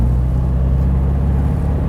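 Steady, loud low drone from a 1957 Porsche Speedster engine pulling through under acceleration, close and continuous with no voices.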